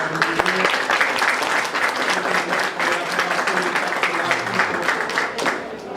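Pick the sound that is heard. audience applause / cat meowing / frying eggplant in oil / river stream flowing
audience applause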